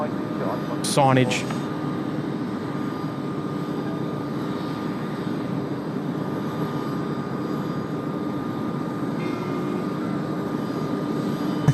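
Airliner leaving Tokyo Haneda International Airport for Okinawa, heard as a steady broad engine roar from a distance under a live commentator's talk, with a brief sharp tone near the start.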